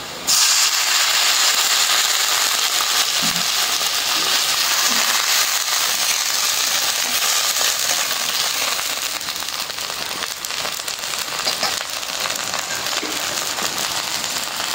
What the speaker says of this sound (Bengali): এখন একটু পানি দিয়ে দিলাম মশলা কষানোর জন্য